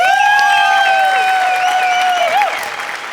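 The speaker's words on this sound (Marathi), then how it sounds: "सगळ्यात आधी जोरदार टाळ्या विनायक पुरुषोत्तमसाठी" Loud audience applause at a Marathi comedy show, Maharashtrachi Hasya Jatra, with sustained dense clapping and some cheering, fading slightly at the end while a high sustained tone or musical note rings over it.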